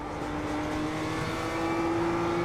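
A Mazda MX-5 engine hums steadily under load in a racing game, a near, continuous tone that rises slightly in pitch across the short stretch, with no voices.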